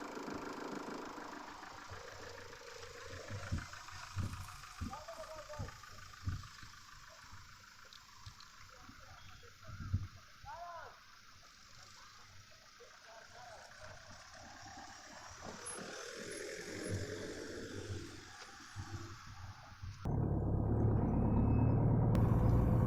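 A car engine hums at moderate volume while being driven and shifted into gear, its steady drone rising and dipping, then giving way to a loud, rough rumble near the end.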